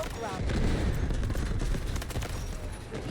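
Rapid automatic fire from a Vector submachine gun in the Delta Force video game, a dense, continuous burst of loud shots lasting a few seconds at close range with no pauses.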